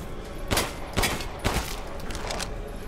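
Gunfire in the video game Resident Evil Village: three sharp shots at roughly half-second intervals, then a fainter fourth, over a low, steady background.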